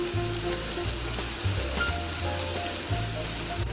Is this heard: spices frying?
yes